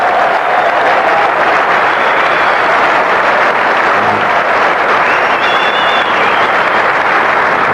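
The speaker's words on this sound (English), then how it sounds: "Very appreciative crowd." Steady applause from a large cricket crowd at the 1992 Cricket World Cup final, Pakistan versus England, broad and continuous for several seconds, with no voices standing out.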